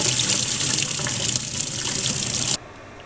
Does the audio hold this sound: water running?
yes